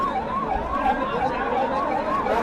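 Ambulance siren wailing steadily in a repeating rising and falling sweep over street traffic noise, fairly close and prominent.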